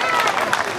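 A brief burst of audience applause follows a song performance at the Gilgit Baltistan and Chitral cultural festival, a short flurry of clapping mixed with voices.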